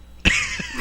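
A single sharp cough up close, followed by a brief throaty tail and a softer second catch, during a casual fan podcast recording.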